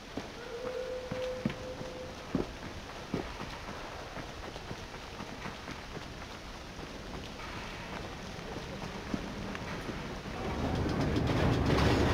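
A steam-era train runs through Victorian London in Assassin's Creed Syndicate, a low continuous rumble with faint clanks and a brief whistle-like tone early on, swelling louder near the end.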